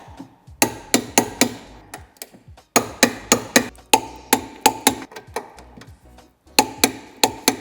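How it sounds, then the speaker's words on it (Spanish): Torque wrench tightening 12 mm bolts to 87 Nm while fitting a tow hitch on a BMW X3 G01 (2017-2024): sharp, evenly spaced ratchet clicks in quick bursts of about five, with short pauses between sets, close and clear with no talk. "Apretaremos ya los tornillos de 12 con la dinamométrica 87 Nm"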